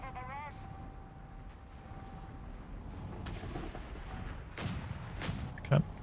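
Nebelwerfer rocket artillery fires in the video game Company of Heroes 3. Several sharp explosive bursts punch through a low rumbling battle background, with a commentator's voice audible at times.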